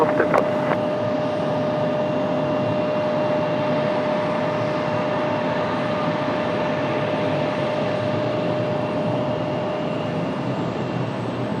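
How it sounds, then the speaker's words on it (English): ATR turboprop airliner arriving from Wilmington at Raleigh-Durham, a steady droning engine hum with a faint constant whine, heard at moderate distance with no talk. "Here comes our ATR from Wilmington."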